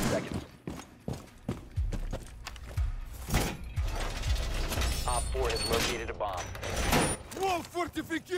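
Clicks and metallic clacks of a weapon being reloaded in Rainbow Six Siege, a rhythmic series of mechanical snaps amid game noise, with a voice speaking partway through.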